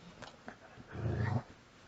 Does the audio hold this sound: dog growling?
yes